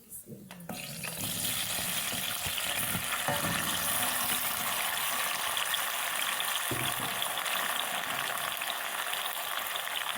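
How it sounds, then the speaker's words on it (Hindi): Dates frying in hot ghee with cardamom for khajoor halwa, a steady dense sizzle that bursts in after a brief quiet start and holds loud and even throughout, with occasional faint clinks of a spoon. "खजूर डाल के अच्छी तरह फ्राई कर लेंगे इसको"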